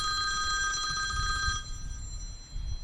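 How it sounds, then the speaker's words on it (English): A telephone rings loudly in a small studio, a bright repeating bell trill that carries for about a second and a half and then cuts off, leaving only low room rumble with no one speaking. "We got loud phones going off."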